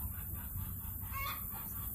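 Farm chickens cluck softly in a low, steady murmur against constant background noise, with a brief brighter call near the middle; no talking.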